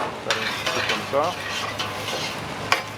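Onions and sugar cooking in a hot frying pan, a continuous sizzle broken by stirring scrapes and light utensil knocks against the pan, heard up close without talk.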